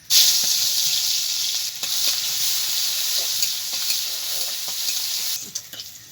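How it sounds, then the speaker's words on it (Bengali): Garlic dropped into hot mustard oil in a wok for tempering bursts into a loud, dense sizzle that holds steady, with faint stirring scrapes, before easing and crackling near the end. "এখন আমি দিয়ে দেবো রসুন।"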